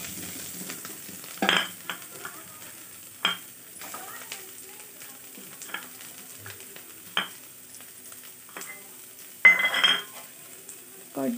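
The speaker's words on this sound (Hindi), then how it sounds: "लेसुन के टिके लाल हबार तक भाजमा" Garlic and chili frying in a pan until reddish, a steady low sizzle with occasional louder spatters and the clink of a utensil stirring, no talking.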